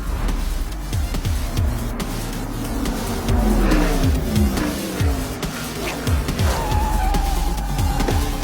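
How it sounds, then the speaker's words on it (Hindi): Racing cars speed around a race track, with loud, close engine roar and a sweeping pass mid-way, then a rising whine near the end, with no talk over it. "He has been racing through the track like a bullet"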